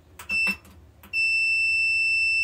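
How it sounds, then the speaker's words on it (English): A multimeter set to continuity mode, probing a thermostat on an LG gas dryer, gives a short beep, then a loud steady tone of about 1.3 seconds. Nobody speaks. "I have my multimeter set to the continuity test with the beep."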